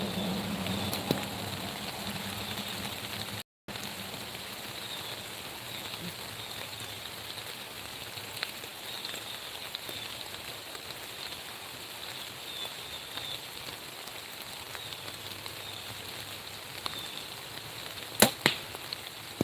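Rain falls steadily outdoors at an archery range, a soft, even hiss running unbroken for the whole stretch, with faint scattered taps and one sharp knock near the end.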